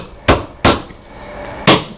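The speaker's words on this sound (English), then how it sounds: "Mallet the hell out of that thing and cut it" A mallet strikes raw chicken to chop off the neck, giving three loud, sharp thuds with uneven gaps between the first two and the third, heard close up and alone.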